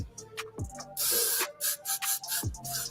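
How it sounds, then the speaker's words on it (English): Aerosol hair spray hisses close up: one long continuous blast, then several shorter puffs, with a few faint handling sounds around them. "Holding spray."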